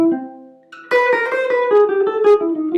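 A gypsy jazz guitar plays a quick melodic pattern that circles each note with its upper and lower neighbor tones, a single note first, then a clear, close run of plucked notes.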